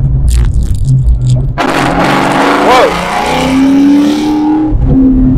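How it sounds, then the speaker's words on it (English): Procharged 2004 Ford Mustang Mach 1 accelerating hard through the gears, a loud close roar that rises in pitch, drops at a shift, then climbs again with a whining supercharger tone. A voice is faintly heard underneath. "Go ahead, go through the gears,"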